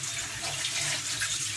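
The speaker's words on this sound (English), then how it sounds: "So I'm just going to throw in my water." Water pours in a steady rushing stream into a pot of sizzling black-eye rice for Trinidadian cook-up rice, close and loud the whole time.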